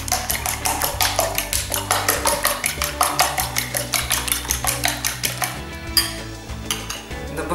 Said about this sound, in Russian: взбиваем